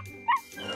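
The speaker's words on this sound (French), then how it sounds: "Elle est trop mignonne, ta chienne." A cartoon dog gives a short yip and whimper in the middle of the moment, rising briefly above a quiet background with light music or ambience.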